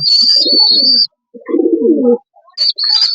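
Racing pigeons coo in low, rolling bursts, close by and clear, with a steady high chirping or whistling tone sounding alongside.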